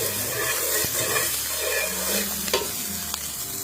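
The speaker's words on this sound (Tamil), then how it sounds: "வெங்காயம் பச்சை மிளகாய் கடுகு உளுத்தம்பருப்பு கொஞ்சமாக எண்ணெய் ஊற்றி நல்லா வெங்காயம் பொன்னிறமாக அப்படியே எடுத்து வதக்கிக்கலாம்" Shallots and green chillies sautéing in oil with mustard seeds and urad dal, a close steady sizzle and hiss with occasional spoon scrapes and stirring knocks against the pan.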